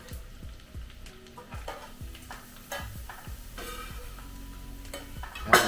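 Seafood butter sauce sizzling in a pan while being stirred, a steady fry with repeated scraping strokes and clinks close by, no talking.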